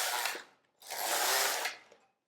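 Locks of a Passap Duomatic 80 knitting machine sliding across the needle bed without yarn, two loud close mechanical whooshing passes with a rattling, ratchety edge and a short pause between them.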